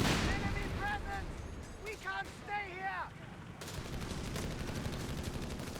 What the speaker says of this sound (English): heavy machine gun gonna drive away those Panzer Pioneers